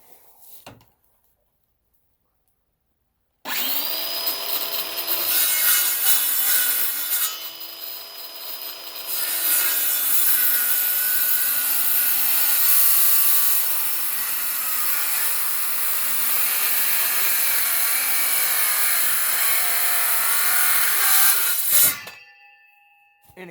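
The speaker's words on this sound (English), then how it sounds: "hardwood is, well, for lack of a better word, very hard on a saw." Hand saw cutting through hardwood for a water tank stand, a steady rasping back-and-forth stroke that runs loud and close for about eighteen seconds after a silent start, with a brief pause near eight seconds.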